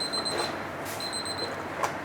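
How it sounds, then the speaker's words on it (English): A kitchen timer rings in a restaurant kitchen, giving thin high electronic beeps in two short repeated bursts over low room noise and a faint clatter. "my timer"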